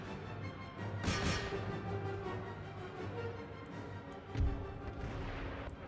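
Cannon and howitzer artillery booming on a battlefield in Empire: Total War, with two heavy blasts several seconds apart over a steady rumble of distant battle noise.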